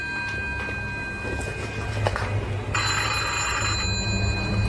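A telephone rings steadily over a low background rumble, and the ring swells louder midway through. The scene is a scary TikTok clip in which a YouTube team is being stalked, and no one speaks.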